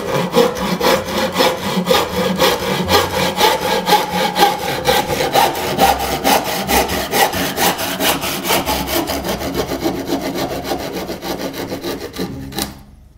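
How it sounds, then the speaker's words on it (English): Hand saw cutting through wood for a simple wooden sailboat, a steady fast rhythm of rasping back-and-forth strokes, close and loud, slowing and stopping near the end. "And then we start sawing once again."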